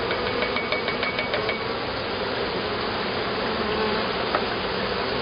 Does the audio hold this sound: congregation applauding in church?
no